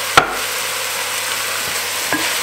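Chopped onions, carrots, celery and garlic fry in a pan with a steady close hiss of sizzling oil, broken by an occasional sharp clink of a utensil.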